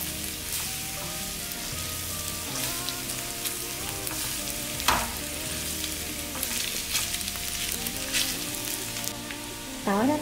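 Garlic and pork belly fry in a pan for pork belly caramelized with crispy edges, giving a steady, crackling sizzle close up with occasional scrapes of stirring and no talk.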